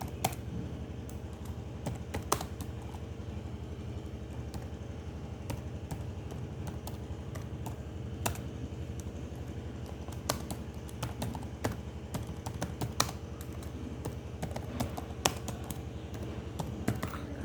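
Steady typing on a computer keyboard while writing in Word, a continuous patter of close key taps with occasional louder strokes.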